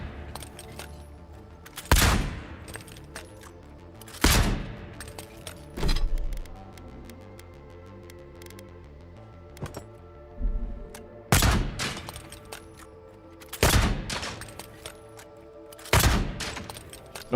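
Pistol shots in the game Avowed, single loud cracks spaced a couple of seconds apart with a few quieter clicks and mechanical sounds between them, heard without talk.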